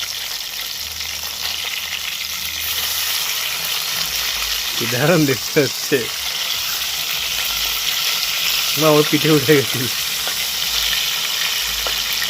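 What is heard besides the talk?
pomfret fish frying in a pan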